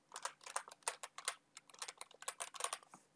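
A file name is typed on a Windows computer keyboard: a quick, close run of about twenty light key clicks in uneven bursts, heard alone and fairly faint.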